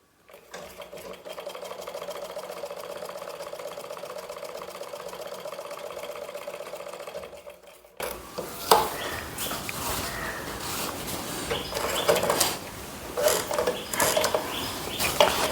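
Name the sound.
sewing machine stitching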